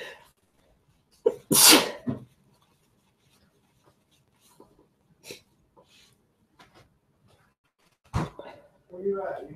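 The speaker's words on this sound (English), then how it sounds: "All of a sudden, I'm sneezing." Several sharp, close sneezes from one person, a loud burst early on followed by smaller ones and a final sneeze near the end, separated by quiet indoor pauses with light shuffling.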